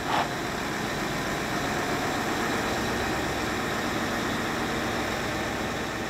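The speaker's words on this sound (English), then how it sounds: "The wheels of the tractor unit spin." A heavy tractor unit hauling a 320-ton magnet drones steadily with a low, rumbling engine note and broadband hiss, continuous and unchanging throughout, with no voices.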